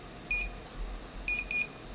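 Garrett PRO-Pointer AT handheld metal detector sounding over a small coin buried about an inch down: three short, high electronic beeps, one early and two close together near the end, over quiet background.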